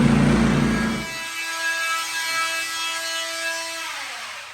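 A wooden beam is trimmed and carved during a log cabin build, starting with a loud close burst of cutting and then a sustained tonal whine that slowly fades.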